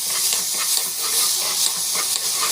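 A puree with cumin, urad dal and chana dal sautés in a pan, giving a bright, steady hissing sizzle with faint stirring scrapes throughout, with no speech.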